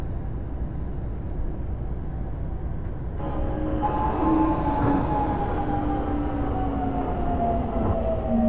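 A Line 1 subway train runs between stations, heard from on board: a steady, loud rolling rumble with a traction-motor whine that rises in pitch as the train picks up speed. No one speaks.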